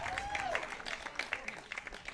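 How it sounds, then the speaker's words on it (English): Applause from a large crowd in the stands at a pro pickleball championship court, a steady moderate patter of clapping with faint voices mixed in, heard from some distance. "Appreciation from the big crowd here in the stands"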